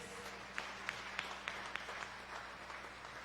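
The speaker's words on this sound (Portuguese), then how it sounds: "As palmas glorifiquem mais uma vez a Deus." Church congregation clapping in praise, a fairly faint, roughly even rhythm of distinct claps at about three per second over a soft murmur of room sound.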